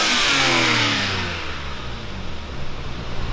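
An R32 Skyline GTR fitted with an HKS SSQV blow-off valve revs up loudly, then falls away as the engine drops back toward a rough idle, with a hissing release and a faint rise in revs near the end.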